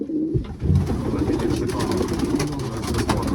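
Pigeons coo in a loft, low rolling calls repeating close by over steady background noise, with no talk heard.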